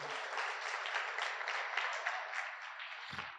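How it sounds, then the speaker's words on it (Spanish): A conference audience claps together in sustained, even applause, fairly distant and soft, fading out at the end. "Un aplauso para Chuy,"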